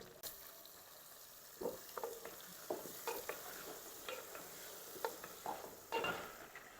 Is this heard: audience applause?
no